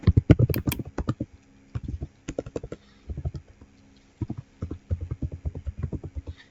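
Fingers type quickly on a computer keyboard, entering an email address in close, crisp bursts of keystrokes separated by short pauses, with no speech.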